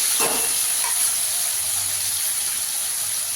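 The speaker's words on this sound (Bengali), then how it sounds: "আলুগুলোকে একটু লাল করে ভেজে নেবো।" Potatoes fry in hot oil, giving a steady loud hiss and sizzle with a few brief clatters near the start.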